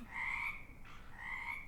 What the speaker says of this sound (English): I think I hear croaking.